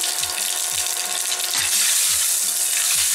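Mustard seeds and dried chillies sizzle in hot oil for a Bengali lentil dish with raw tomatoes, giving a steady, close crackling hiss, with repeated low knocks of stirring against the pan.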